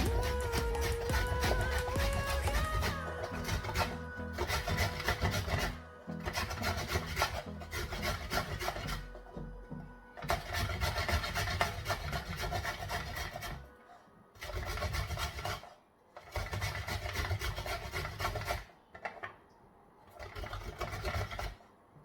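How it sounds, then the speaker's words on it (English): Coconut is grated by hand on a grater in a series of loud rasping bursts, each lasting a couple of seconds and broken by short pauses. "Now what I'm going to do is to start to grate. This is my grater."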